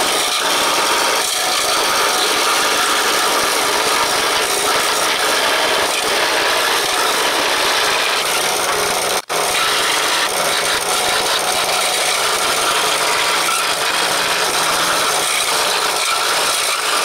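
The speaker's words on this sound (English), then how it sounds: "I took the random orbital sander to it to clean up all the edges" Random orbital sander running continuously on the edges of a cut wooden template, a loud, steady whirring rasp close by with one tiny break, no voices.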